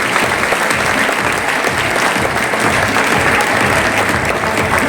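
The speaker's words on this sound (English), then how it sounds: "Can we have one more loud round of applause, please?" Dense, sustained applause from a large audience at a formal farewell ceremony for Indian athletes bound for the Paris Olympics. It stays steady and loud for the whole stretch, with no voices rising above it.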